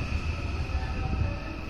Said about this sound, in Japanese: やってきたのは207系電車、普通電車の新三田行きです